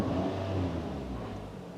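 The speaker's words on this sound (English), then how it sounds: "Let me give her a couple rev ups there" A Nissan Altima 2.5 engine with a rough-running, stalling fault revs up under the hood, a steady mid-pitched drone swelling slightly then easing back, close and fairly loud with no talking.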